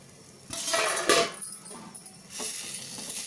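A spoon stirs capsicum and gram flour porutu curry in a pan, with scraping, clinking strokes in a few bursts, close and fairly loud, no talking.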